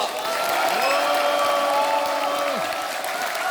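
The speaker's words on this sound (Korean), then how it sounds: "대한민국의 운명을 바꿀 여러분의 위대한 결단에 더욱 큰 박수 한번 보내드립시다" A crowd applauds at the launch ceremony of South Korea's United Future Party, a broad steady wash of clapping with a sustained tone, like music or a held note, gliding above it before dropping away.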